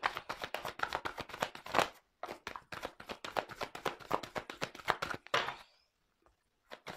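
Tarot cards shuffled by hand for a reading: a close, steady run of quick papery riffles and taps, a brief break just before the two-second mark, then shuffling again until it stops and silence follows.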